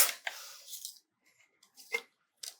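Paper card panel being trimmed with scissors: a few crisp snipping cuts, close and fairly quiet, separated by short silences.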